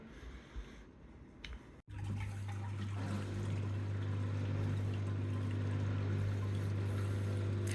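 A bench-top portable dishwasher starting its run after a quiet moment, then a steady motor hum with water spraying and trickling inside, constant and moderately loud to the end.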